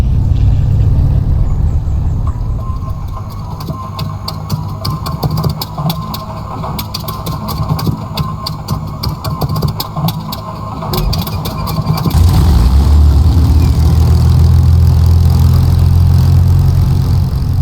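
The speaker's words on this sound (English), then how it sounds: "our Merlin V12 now singing away quite nicely, just warming up here at the moment" Supermarine Spitfire Merlin V12 idling and warming up after start in MSFS 2020, a steady rough rumbling drone with crackly pulses that swells into a deeper, louder roar partway through.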